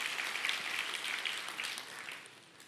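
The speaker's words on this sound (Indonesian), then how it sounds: "Berikan tepuk tangan buat Tuhan saudaraku." Congregation applauding during a church sermon, a steady, moderately distant wash of clapping that holds through and fades slightly at the end.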